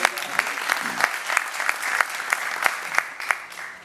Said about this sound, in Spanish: un aplauso para ustedes por estar aquí